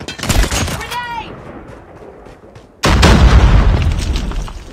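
A grenade blast in the mobile shooter Call of Duty Mobile lands as a sudden loud booming burst that rumbles on, following a stretch of game sounds and voice chatter.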